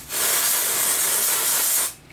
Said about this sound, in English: I usually just spray it in the roots and then lift up and spray up underneath